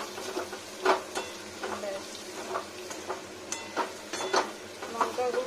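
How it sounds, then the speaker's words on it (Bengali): Dried chili powder fries with potatoes in a pan while being stirred, giving a low constant sizzle broken by repeated scraping strokes and light clinks of the spoon against the pan, with no one talking. "লঙ্কার গুঁড়োটা আগে ভাজা দরকার আছে একটু।"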